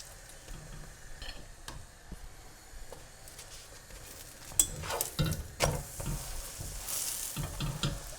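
A potato and peas stuffed paratha frying in homemade ghee, a soft sizzle with occasional scrapes and taps of a spatula on the pan, growing louder toward the end, no speech.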